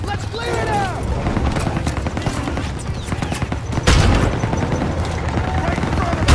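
Tanks firing on trenches in a Call of Duty: WWII battle: continuous heavy booms and rattling gunfire, with a louder blast midway, while soldiers shout over the chaos.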